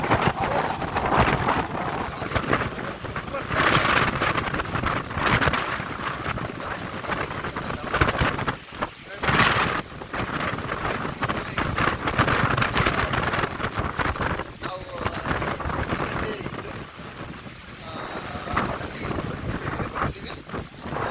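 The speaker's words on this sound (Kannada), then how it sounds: "ಗಾಳಿ ಹೊಡಿತಾ ಇದೆ" Wind blows steadily across the microphone on a hilltop, a continuous gusty rumble with brief dips, heard on its own without talking.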